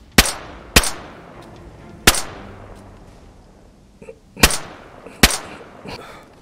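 Five sharp, loud .308 rifle shots in the video game DayZ, spaced irregularly over a few seconds, each with a short ringing tail against faint background ambience.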